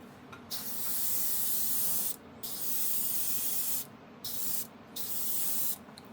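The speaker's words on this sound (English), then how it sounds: "using my Patriot 105. It's my all-purpose airbrush." A Patriot 105 airbrush run at 13 psi sprays extremely thin varnish in light coats, a steady close hiss broken by four short pauses where the trigger is released.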